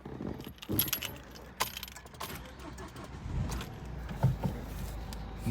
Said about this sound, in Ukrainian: Ключика у нас два